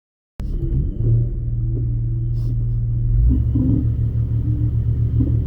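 A Pontiac Fiero with a supercharged 3800 engine launches at a drag strip, a heavy steady engine rumble starting abruptly after a brief silence and rising slightly in pitch as it pulls away.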